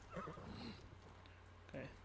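A horse in the video game Ghost of Tsushima whinnies twice, with short high neighs separated by a pause, over a low steady background hum.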